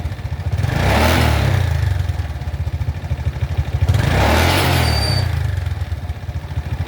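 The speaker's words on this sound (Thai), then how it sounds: "เร่งเครื่องดูครับผม" A Honda Dream 125 motorcycle engine revving close up, putting out a steady low throttled chug that swells twice into louder revs before settling back toward idle.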